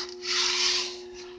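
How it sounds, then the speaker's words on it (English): Rusty metal being wiped after a vinegar and rock salt soak, a single steady rubbing stroke of about a second, close and fairly quiet, with a faint constant hum behind it. "Rust is just literally wiping right off of this thing. Every time I go across it, it's a little more and a little more."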